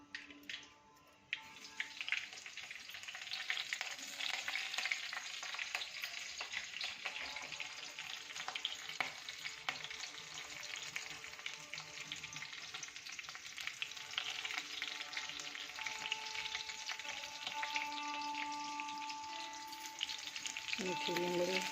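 Mustard seeds and cumin sizzling and crackling in hot oil in a kadai, a dense, continuous frying hiss that holds steady for the whole stretch, close and fairly loud.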